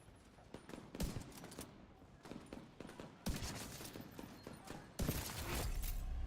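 Gunfire from a shooter in The Division 2: sharp bursts of rapid automatic shots, fairly close and punchy, separated by short gaps, with a longer sustained volley at the end.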